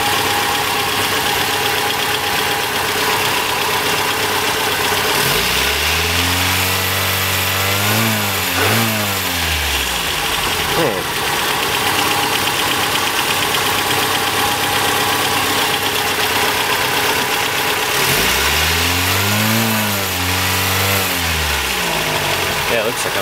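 A car engine fitted with water-alcohol injection revs up twice in loud swelling bursts, pitch rising and falling, over a steady running drone.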